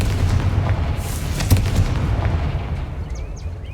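A Confringo fire spell blasting in Hogwarts Legacy: one dense, roaring burst with a sharp crack near the middle, over a steady rumbling wash of game ambience, loud and close.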